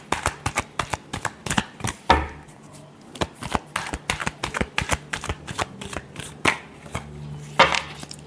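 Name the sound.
shuffling tarot cards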